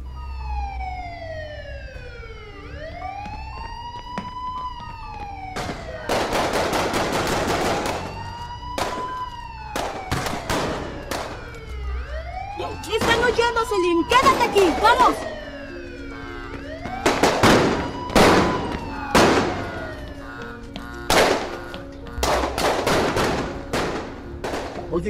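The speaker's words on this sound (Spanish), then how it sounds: "Escucho disparos. Vienen de cerca." Bursts of gunfire crackle close by in rapid volleys, mixed with wailing police sirens that rise and fall throughout, in a dramatic street scene.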